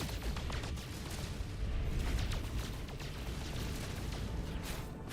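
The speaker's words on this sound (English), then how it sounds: "Freighter wants to show up and freak me out with all the explosions." Dense, rumbling bursts of explosions from a freighter battle in the space game No Man's Sky, a continuous loud barrage of pops and booms with no clear gaps.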